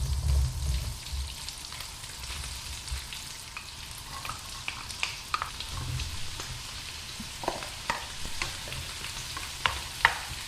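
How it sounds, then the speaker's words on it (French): Salsifis, shallots and mushrooms fry in olive oil and butter over high heat, a steady close sizzle with occasional stirring clicks and scrapes, no talking. "je vais faire revenir les salsifis sur un feu vif afin de les faire colorer et dorer."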